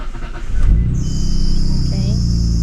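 A 500 hp Nissan Skyline R32 GTR fires up and settles into a steady, loud idle with deep low rumble, heard close by for a couple of seconds.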